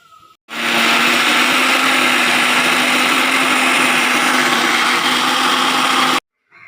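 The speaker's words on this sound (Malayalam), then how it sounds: "ഇത് നമുക്ക് അരച്ചെടുത്തിട്ട് വരാം ഓരോന്നായി മിക്സിൻ്റെ ജാറിലിട്ട് കൊടുക്കാം" A mixer grinder grinds peanut and coconut chutney, whirring loudly and evenly for about six seconds, starting and stopping abruptly, with brief quiet before and after.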